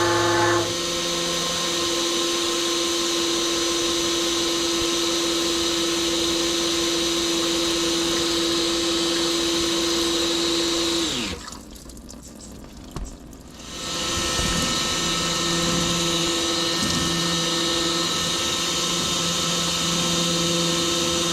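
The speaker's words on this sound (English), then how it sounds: "We're going to go ahead and blast some diesel fuel at it." Diesel fuel is sprayed hard onto sludge in the gear case of a 1957 Autocar truck, giving a steady loud hissing rush that stops briefly and then resumes, with no talking.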